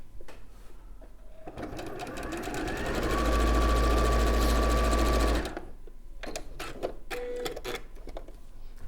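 A sewing machine stitches along a marked diagonal line on a fabric quilt block, running in a steady rapid whir that swells louder mid-stretch, then stops, followed by light handling clicks.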